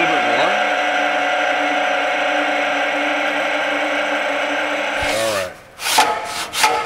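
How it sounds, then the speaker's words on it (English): A 12-gauge Durma RGM 1303 power shear: a steady mechanical whir and drone runs for about five seconds, then cuts off, followed by a few short knocking impacts as sheet metal meets the back gauge. "You'll hear it hit that back gauge and you'll know exactly where it's at."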